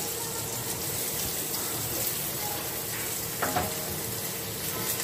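Pumpkin pieces with coriander powder, turmeric, garam masala and Kashmiri red chilli sizzle in a pan over a low flame, a steady close frying hiss with faint stirring, no voice.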